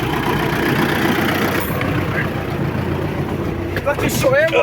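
A tractor engine runs with a steady low rumble and drone throughout, while people talk over it close by.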